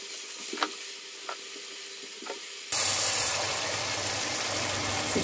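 Food frying in a pan gives a few soft ticks at first, then a loud, steady sizzle bursts in and continues close up with no voices.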